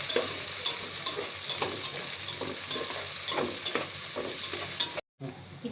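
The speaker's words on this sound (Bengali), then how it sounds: "একটু ভাজা ভাজা হতে থাকবে।" Chopped onion fries in a pan while being stirred, a loud steady sizzle with rhythmic scraping strokes of the spoon; the sound cuts out abruptly near the end, then resumes.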